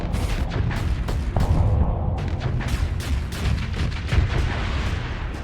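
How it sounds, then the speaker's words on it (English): Missile suppression fire from the Conquest in Starsector, a dense rapid barrage of booming and popping shots that runs steadily and loudly with no pauses, heavy low-end thumps under sharp crackling bursts. "And here is the missile suppression from the Conquest."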